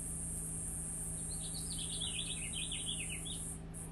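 Bright chirping birdsong flutters through a steady high insect drone and a low constant hum, an outdoor nature scene with no voices.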